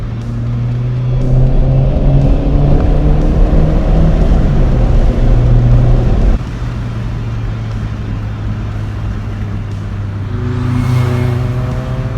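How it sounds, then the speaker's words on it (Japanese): A Toyota Starlet EP82 turbo engine revs loudly up close, a strong drone rising in pitch, dropping abruptly as the throttle closes, then climbing again near the end. "そのターボの音いいな"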